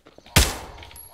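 A single sharp, loud gunshot rings out from Combine soldiers firing in Garry's Mod, a sudden close crack that decays into a brief tail, with faint game sounds before it.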